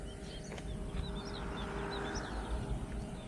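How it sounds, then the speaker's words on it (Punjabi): Faint sparrows chirping in the distance near a dam over a steady rush of wind and outdoor background noise. "ਸੁਣੋ ਤੁਸੀਂ ਚਿੜੀਆਂ ਦੀ ਆਵਾਜ਼ਾਂ ਸੁਣੋ ਸਾਈਡ ਤੇ"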